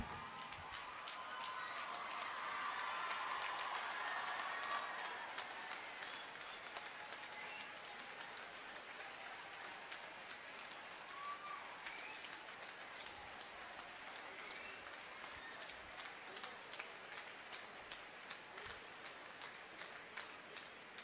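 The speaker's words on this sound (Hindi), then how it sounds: "ताली बजानी है पेरेंट्स के लिए तो पूरे दिल खोलकर मन से पूरी ताकत से ताली ऐसे" A large audience at a motivational talk for NEET students in Nanded applauds the parents, with sustained, dense clapping that swells over the first few seconds and then continues steadily throughout.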